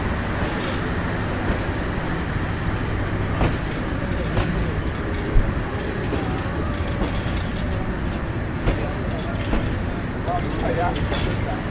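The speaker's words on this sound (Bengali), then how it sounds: "রাত দুইটা সাতচল্লিশ মিনিটে আমাদের ট্রেন ছেড়ে গেল শায়স্তাগঞ্জ রেলওয়ে স্টেশন থেকে" The Upaban Express night train rolls out of Shaistaganj railway station, a steady loud rumble with faint rhythmic clatter of the wagons and occasional talk over it.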